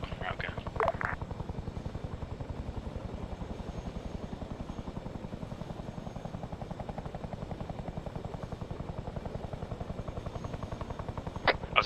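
A Chinook twin-rotor transport helicopter in the ARMA 3 military game thrums with a steady, fast rotor beat throughout, loud and close, while voices talk over radio chatter.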